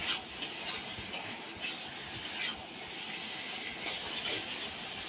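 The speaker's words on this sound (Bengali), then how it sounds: "এবার আমরা বেশ কিছুক্ষণ ধরে মশলাটাকে একটু নাড়াচাড়া করে কষিয়ে নেব।" Spice paste stirred and fried with boiled potatoes for a vegetarian paneer curry, a steady close sizzle with soft scraping strokes of the spoon recurring every second or so, no voices.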